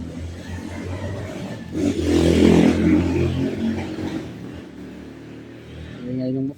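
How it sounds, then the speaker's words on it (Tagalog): Motorcycle engine swelling as it passes near a plywood house, rising to a loud rumble over the middle of the clip and then fading, with faint background voices. "Ingay ng motor."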